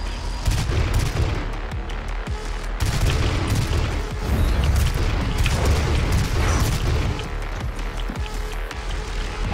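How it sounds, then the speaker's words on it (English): Rapid gunfire and booming explosions from shot explosive barrels in the video game DOOM, loud and dense throughout with repeated blasts and mechanical clatter. "When in doubt, shoot the explosive barrels."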